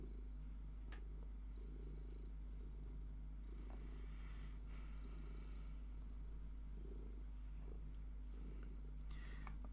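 A house cat purring steadily and close, a low continuous rumble under constant background hum, with a few faint clicks and rustles.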